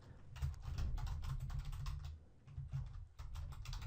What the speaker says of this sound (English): once we start typing content in there